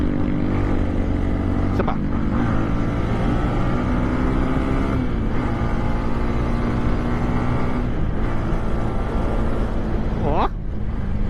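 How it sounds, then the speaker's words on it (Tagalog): A Honda Winner X motorcycle engine hums steadily up close, with a whistling tone running through it and brief revs, while a voice speaks over it. "Ang sarap sa tenga ng makina, sumisipol."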